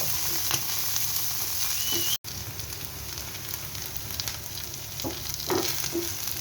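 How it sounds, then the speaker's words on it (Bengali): Chopped onion fries in a pan with a steady, dense sizzle and crackle, a few stirring scrapes over it and a brief dropout partway through. "আবার দিয়ে দিলাম পেঁয়াজ কুচি আমি এটাকে সুন্দর করে ভেজে নেব"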